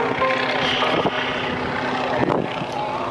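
Radial engine of a Stearman biplane flown by John Mohr at an airshow, droning steadily and loudly as it powers back in after an aerobatic tail slide, a broad continuous roar with faint voices beneath.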